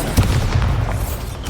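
The Bombarda blasting spell explodes in Hogwarts Legacy, a dense, booming crackle of close blasts and rumbling debris that stays loud across the moment, with no talk.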